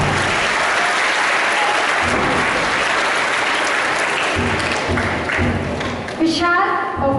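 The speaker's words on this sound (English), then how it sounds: "give them a big round of applause" Audience applause at a school assembly: dense, sustained clapping from a large crowd, loud and continuous for several seconds before thinning slightly near the end, with faint voices mixed in.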